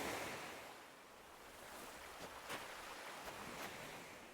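Gentle ocean surf rolls steadily on a beach in the video game Animal Crossing: Happy Home Paradise, a soft continuous wash with a few slightly stronger swells breaking through, heard alone at low volume.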